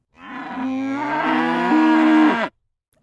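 A single long cow moo from cattle, close and loud, rising and holding for about two seconds before cutting off into silence.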